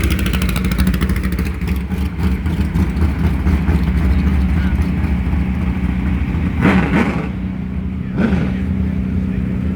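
A modified race car at Caraway Speedway roars past close by with loud, sustained engine noise, and a second brief pass swells near the end.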